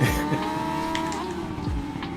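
Loud, continuous engine roars with rising and falling pitch as several racing motorbikes rev and sweep past in the racing video game RIDE 5.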